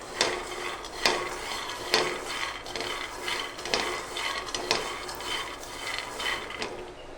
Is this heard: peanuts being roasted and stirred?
yes